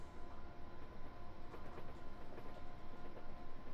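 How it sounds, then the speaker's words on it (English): A train rumbles past in a London to Brighton rail simulator game, a steady low drone with faint rhythmic clicks of wheels over rail joints, alone with no voices. "By the way, there's train number 17."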